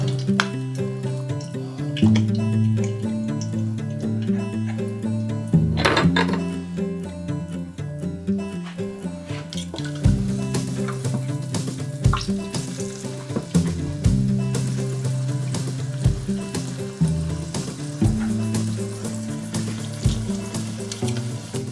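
Steady crackling sizzle of battered squash frying in hot oil, with occasional clinks and stirring noises, continuous and close, no talking.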